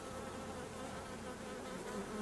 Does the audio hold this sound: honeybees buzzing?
yes